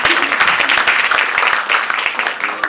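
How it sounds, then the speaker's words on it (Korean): Sustained applause from a crowd at a political party's joint meeting, dense steady clapping filling the room throughout with no voices over it. "뜨거운 박수를 보내주시기 바랍니다"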